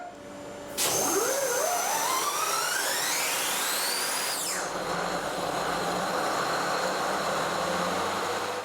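The diesel engines of the frigate Mecklenburg-Vorpommern, a warship, start up: a loud roar kicks in abruptly and a whining tone climbs steadily in pitch for several seconds, then settles into a steady, powerful drone.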